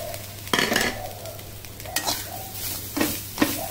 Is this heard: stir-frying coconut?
yes